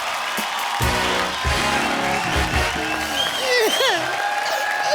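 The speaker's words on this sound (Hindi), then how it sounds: "जोरदार तालियां पाजी प्लीज" Studio audience applause with cheering on a Hindi TV comedy show set, mixed with loud music and sweeping tones, with voices over it.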